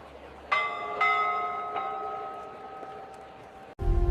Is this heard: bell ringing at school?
yes